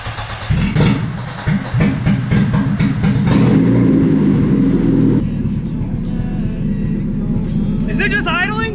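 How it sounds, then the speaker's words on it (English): The engine of a 2002 Saturn track car, fitted with a 96 motor, cranks and fires for its first start, then settles into a loud rough idle, with excited voices calling out over it. "we are going for the very first start of the 96 motor and the 2002 Saturn."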